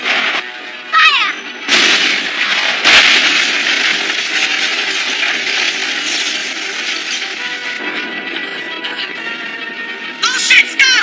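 Long-barrel guns mounted on the bow of an anime airship fire in a loud, dense barrage, with sharp bursts near the start and end over a sustained roar; no one speaks.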